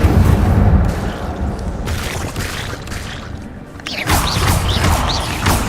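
Repeated Incendio fire spells blast out in Hogwarts Legacy, heavy booming bursts and crashing impacts packed close together across a busy, loud combat soundscape with no talking.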